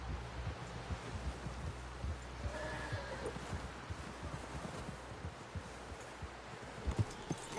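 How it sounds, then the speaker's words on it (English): Horse sounds from the video game Red Dead Redemption: a whinny rises mid-clip over a steady clip-clop of hooves and rustling movement, with no talk. "Someone help John down off this horse."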